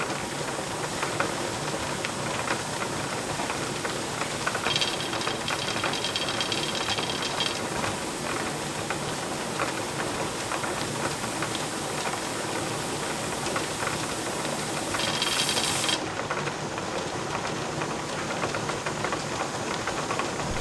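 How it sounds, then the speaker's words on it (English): A pressure canner vents steam in a constant, loud broadband hiss that runs unbroken throughout, close by, with a brief brighter spurt partway through. "Now that I've got steam coming out really good"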